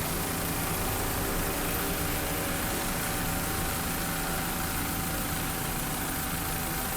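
A Mercury 500-horsepower inboard engine drives a 28-foot Pantera racing powerboat at a 2002 Daytona offshore grand prix, a loud, unbroken, rushing roar with a steady hum that fills the whole stretch without pause.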